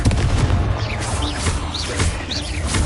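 Confringo blasting spells explode in the Hogwarts Legacy video game: dense, loud booming blasts crowd together with crackling bursts and brief whistling streaks, running continuously without a pause.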